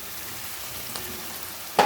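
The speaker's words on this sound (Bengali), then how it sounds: "এটাকে আমি ভালো করে কষে নেব।" Fried potatoes are stirred in a pan of spiced masala, giving a soft, steady sizzle close by, with a brief scraping clatter near the end.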